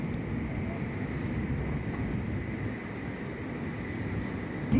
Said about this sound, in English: And now I'm in a bullet train